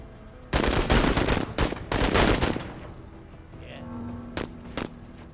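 Rapid bursts of automatic gunfire in the video game Menace, loud and dense, followed by a couple of sharp isolated shots over a low background hum.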